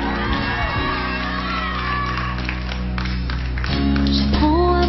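A crowd of fans cheering and whooping at a concert in Paris, loud and continuous over music and sustained tones.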